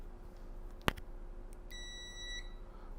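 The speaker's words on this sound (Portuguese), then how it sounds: "Multímetro, um teste de continuidade." A digital multimeter gives its short electronic continuity beep during a phone charging-connector replacement, a thin tone heard once against a quiet bench hum, preceded by a sharp tap of the probe.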